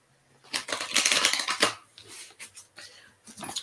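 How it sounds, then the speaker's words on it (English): A deck of playing cards shuffled by hand: a dense, crisp riffle of rapid clicking lasting about a second, followed by shorter papery bursts, close and fairly quiet, with no talking. "Let's shuffle these cards really good."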